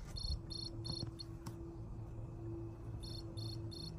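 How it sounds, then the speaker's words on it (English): The sound chip in a children's book plays an electronic cricket chirp, with short repeated bursts in quick groups, a pause, then more bursts, faint and alone over a low hum. "You hear that cricket sound?"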